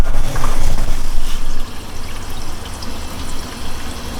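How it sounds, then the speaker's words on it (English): Water runs steadily from an under-sink reverse osmosis drinking-water faucet, a broadband rushing pour that is louder for the first second and a half, then settles into a softer, continuous trickle. "Turn on the water."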